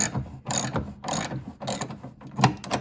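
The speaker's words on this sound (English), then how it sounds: "I like to just use two sockets and just crank them off." Ratchet with two sockets loosening the scraper bar bolts on a Toro Power Clear 621 QZE snowblower: several close, rapid clicking bursts in an uneven rhythm.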